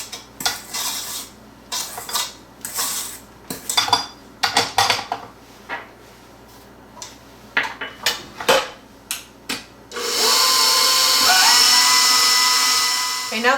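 A utensil scrapes around the sides of a mixing bowl of bran muffin batter in a series of short, sharp clinks and scrapes, close and fairly loud, ending in a steady whirring mixer-like drone.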